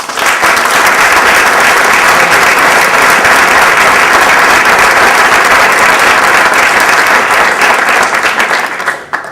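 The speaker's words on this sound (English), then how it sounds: "Let's give them all a big round of applause." A room full of guests applauding at a Chamber of Commerce awards dinner, dense, loud, sustained clapping that holds steady for several seconds before tapering off at the end.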